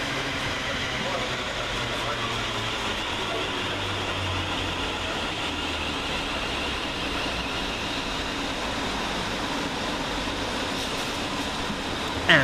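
A pair of East Midlands Railway class 360 electric units running through Luton station, a steady loud rumble and hum of wheels and traction sustained throughout at close range.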